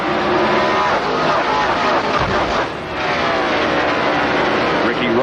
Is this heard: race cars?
yes